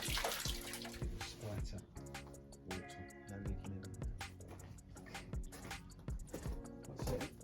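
Water drains from a boiler during work on a hot water outdoor shower, heard as faint, uneven trickling and splashing with scattered clanks and knocks, no voices.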